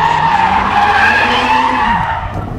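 A car brakes hard and its tires skid in a loud, sustained squeal lasting a few seconds over engine drone, with the pitch sagging as the car slows.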